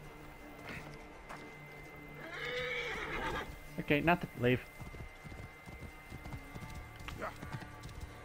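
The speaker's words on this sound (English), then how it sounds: "now to just quickly grab the horse and get out" A horse in Assassin's Creed Origins neighs loudly in a short harmonic whinny, with hooves clip-clopping along the ground, heard amid game ambience while someone talks briefly.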